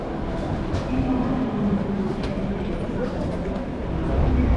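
Train pulling into a station in Cologne or Bonn, a steady low rumble with faint squealing tones, fairly loud and continuous throughout, with some background chatter.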